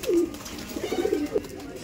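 Abluk pigeons in a loft give low, rolling coos, one longer call near the start followed by several shorter throaty pulses, fairly close and alone with no talk.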